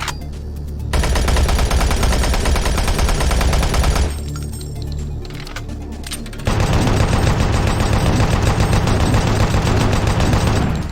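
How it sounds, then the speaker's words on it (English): A minigun fires in the video game Doom 3, loud continuous rapid bursts in two long stretches separated by a short lull of quieter mechanical noise. "this is a minigun. It should shred through enemies"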